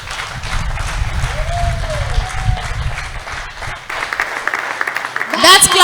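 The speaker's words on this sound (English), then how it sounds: "That clap is not worthy of what God has done." Church congregation applauding during a testimony service, a crowded wash of clapping and cheering under loud voices, with a rising swell near the end.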